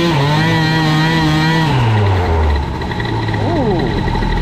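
A Metrakit 70 nitro RC car engine revs up with a loud, buzzy whine that climbs and then drops, followed by a short rising rev near the end, heard up close.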